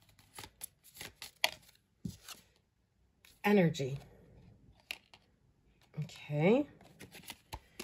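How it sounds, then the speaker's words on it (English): Tarot cards are shuffled by hand in quick, crisp riffling and sliding bursts with scattered taps, while someone speaks briefly between the shuffles. "Let me keep on shuffling these cards."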